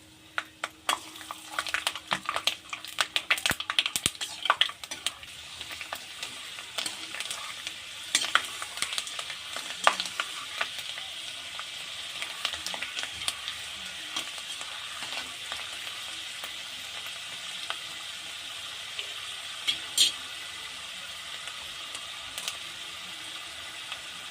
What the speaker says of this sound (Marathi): सगळ्यात सुरुवातीला आपण इथे शेंगदाणे तेलामध्ये टाकणार आहोत कारण ते लवकर भाजत नाहीत